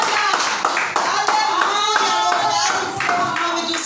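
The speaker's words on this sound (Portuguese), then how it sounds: "E as palmas de novo glorificam o nome do Senhor nessa noite." A church congregation claps in steady rhythm during an evening worship service, the dense, even claps running throughout alongside sustained singing or voices.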